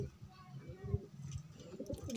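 A desi pigeon coos softly in low, throaty, brief notes, faint and close, with someone talking over it.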